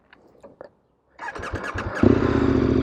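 A manual motorcycle starts with a few faint clicks, then its engine catches and idles roughly before settling into a steady, close running drone as the clutch is eased out to pull away.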